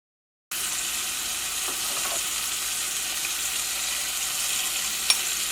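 Turmeric, chili powder and tomatoes frying with prawns in a pan give a steady, close sizzle that carries through without pause, with a soft stir or tap near the end and no talking.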